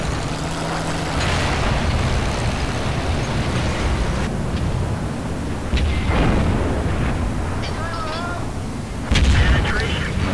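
Heavy tank cannon blasts in World of Tanks, with booming shots and engine rumble over a continuous battle din, including a loud report near the end; someone talks throughout.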